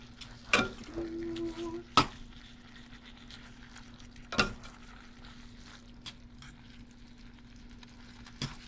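Cooked ramen-style noodles being stirred into vegan chow mein in a pan: quiet scraping and soft sizzling with a few sharp utensil knocks against the pan, otherwise low and steady, no talking.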